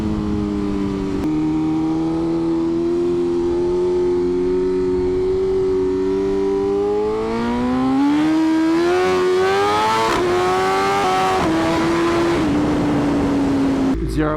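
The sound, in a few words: BMW M1000RR motorcycle engine revving while riding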